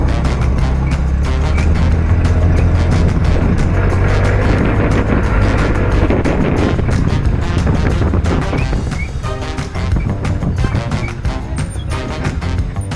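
A vehicle on the move makes a loud, constant low rumble and road drone from inside, steady for the whole stretch with no speech on top.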